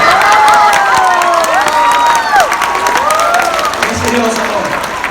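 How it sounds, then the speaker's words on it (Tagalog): Loud audience clapping at a seminar, mixed with cheering, whoops and shouting voices, the crowd noise slowly thinning toward the end. "mahina palakpak"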